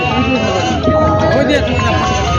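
Goats bleating at a village goat market in Vasmat, Hingoli, loud wavering calls from nearby animals amid a busy crowd with people talking over them.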